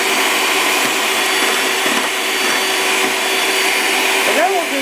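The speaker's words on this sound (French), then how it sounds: "Avec le batteur, on tourne." Electric hand mixer whirring steadily while beating homemade mayonnaise of oil and pepper in a bowl, a continuous close motor drone throughout.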